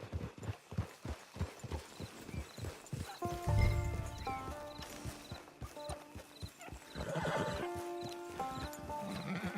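A horse clip-clops along a path in the Red Dead Online game, its hooves thudding in an even, steady rhythm, with a whinny partway through and a musical score playing underneath.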